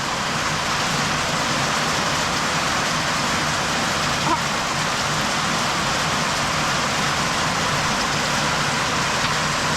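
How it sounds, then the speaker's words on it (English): Hard rain falls steadily outdoors in the Ozarks, a dense, even hiss of drops spread across the whole clip, loud and close, with no talk over it. "it is raining hard now"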